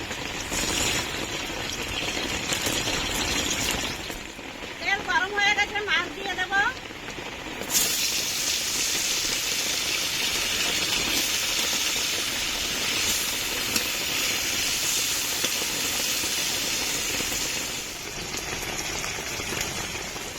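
Sea fish frying in hot oil in a wok, a loud steady hiss and crackle that runs almost the whole time, with a brief burst of sharper sputtering early on.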